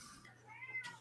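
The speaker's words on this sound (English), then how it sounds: "That's my cat, sorry." A house cat meows indoors during an online talk about startups: one drawn-out, rising-and-falling meow, close but quiet, with no talk over it.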